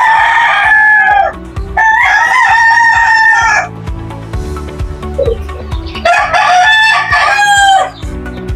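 Imported Madiging Claret gamefowl rooster crowing loudly and close, several long harmonic crows in succession with brief pauses and faint background clatter between them.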